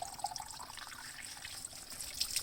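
A brief, faint trickle of water runs into a bottle, a soft, uneven dribbling heard alone for a couple of seconds.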